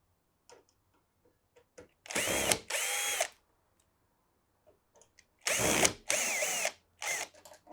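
A power drill backs screws out of a Fisher Paykel washing machine pump, whirring in short close bursts, two quick runs, a pause of faint clicks and handling, then two more runs and a brief final burst.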